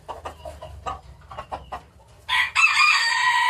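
Chickens cluck in short bursts on a poultry farm, then a rooster crows loudly and close by, the crow holding for about a second at the end.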